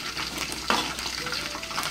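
Dried shrimp (ebi) stir-fried in a hot pan, a dense continuous sizzle with a single sharp scrape of the spatula partway through, close and steady, no voices.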